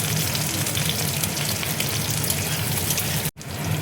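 Onion and ginger fry in hot oil left from frying onions, giving a steady, dense sizzle that stays loud and even before stopping abruptly near the end.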